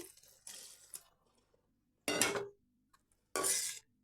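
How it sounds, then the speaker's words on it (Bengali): Water pours into a pan of pointed gourd (parwal) curry in three short separate splashes, each about half a second, with quiet gaps between. "এখন আমি একটু জল এতে দিয়ে দেবো আর একটু জল আমি দিয়ে দেবো"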